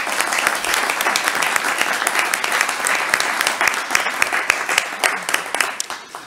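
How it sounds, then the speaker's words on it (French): Municipal council members in Wattrelos give a sustained round of applause, many hands clapping steadily and fairly close, with crisp individual claps standing out as it thins toward the end. "Vous pouvez l'applaudir aussi"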